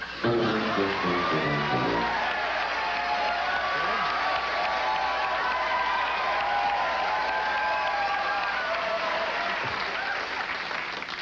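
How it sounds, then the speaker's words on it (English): A studio audience on a 1980s late-night talk show applauding loudly and continuously, with dense clapping and some cheering that hold steady throughout, while voices and music run faintly beneath. "We're going to register your applause on this terribly sensitive piece of audio equipment."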